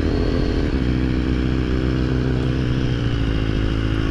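BMW HP4 Race motorcycle engine running close by, a loud, steady, throbbing engine note with dense low rumble that holds constant through the short stretch, no voices over it.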